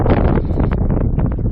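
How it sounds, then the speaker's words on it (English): Wind blowing outdoors at night, gusting against the microphone in a loud, rough, continuous buffeting roar with no talk. "it's very windy tonight"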